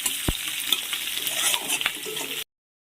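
Onions frying in oil in a pan, a close bright sizzle with quick scraping stirs and a sharp knock early on, steady for over two seconds before cutting off abruptly into silence.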